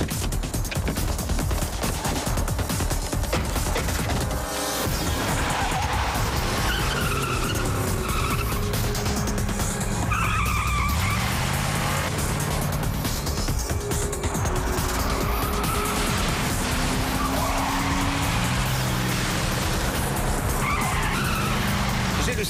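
A car tears away with loud skidding tires and a revving engine in a film chase, the squeal and motor roar sustained throughout, with frantic shouting voices mixed in.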